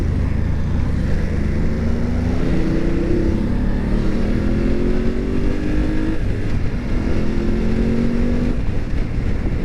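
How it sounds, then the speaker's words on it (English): A 2019 BMW F850GS adventure motorcycle rides onto a highway, its engine droning loudly and rising in pitch through the gears under steady wind noise. "we're about to jump on the highway, see how this bike feels with the wind on the highway"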